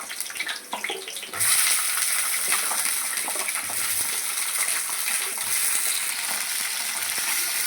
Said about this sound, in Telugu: నూనె వేడెక్కిన తర్వాత దొండకాయలు వేసుకుందాం.